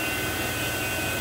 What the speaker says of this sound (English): So using the field piece vacuum pump today